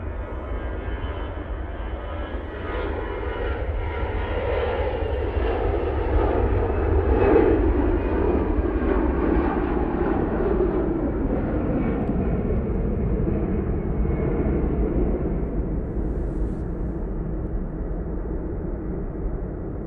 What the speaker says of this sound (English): EasyJet is off to Alicante using their A320 for that flight.